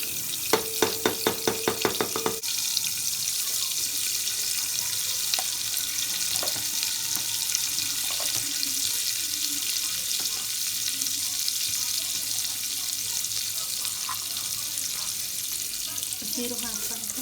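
Butter frying with cumin seeds in a pan, a steady soft sizzle throughout, with a few clinks of a utensil at the start and occasional light stirring scrapes.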